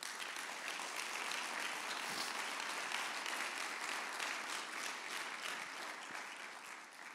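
Sustained applause from a church congregation fills the space, a dense, steady wash of many hands clapping at moderate distance with no voices standing out, tapering slightly at the end.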